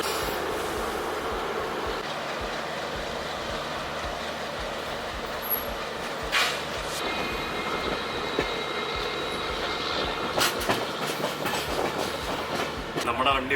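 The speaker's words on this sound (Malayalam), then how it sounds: "ആ ട്രെയിനിനെ അവിടെ പിടിച്ചിട്ടിട്ട് ഇപ്പോൾ നമ്മുടെ ട്രെയിൻ ഫസ്റ്റിൽ പോകും" The Rajdhani Express rolls steadily past another train it is overtaking, a continuous loud rumble with rhythmic clickety-clack wheel beats and occasional metallic squeals, heard from inside the moving train.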